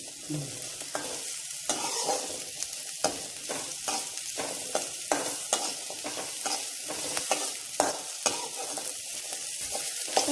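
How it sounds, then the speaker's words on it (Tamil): Green chillies sauté in a pan for a mint and tomato chutney, a continuous bright sizzle with frequent quick scraping stir strokes at an irregular pace. "இருப்பாது பச்சை மிளகாயை போடணும். நல்லா வதக்கிக்கணும்."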